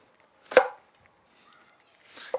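Two sharp knife strikes chopping peppers on a cutting board, one loud chop followed after a pause by a softer, scraping cut, close by with no talking.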